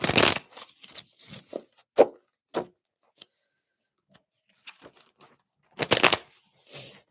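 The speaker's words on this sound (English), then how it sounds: "Let's pull out some cards." Tarot cards being shuffled and handled in bursts: a riffling rush at the start, then scattered light taps and flicks, a pause, and another strong riffle near the end, close and fairly quiet.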